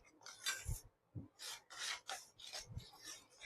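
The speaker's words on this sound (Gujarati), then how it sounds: "હવે આ બંનેને આપણે સારી રીતે આ રીતે મિક્સ કરતા જવાના છે." Nankhatai dough mixture being beaten with powdered sugar in a bowl, giving close, gritty rasping and scraping strokes in an irregular rhythm with brief pauses between them, quiet and with no talk.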